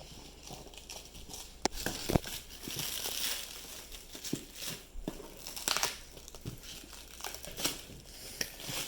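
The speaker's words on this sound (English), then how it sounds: "Cut down here, Axel." Packaging for custom Ford FG Falcon / G6 / FPV upper control arms being cut and ripped open by hand, with crinkly plastic and cardboard rustles and several sharp snaps and tearing bursts, close and moderately loud, with no talking.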